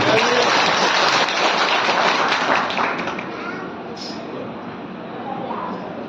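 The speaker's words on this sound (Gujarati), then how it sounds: "અને એક વખત દરેક ગ્રુપનું તાળીઓના ગડગડાટથી છે." Crowd applause at a religious katha gathering, dense and continuous at first, then thinning slightly while still clapping steadily, heard close and fairly loud.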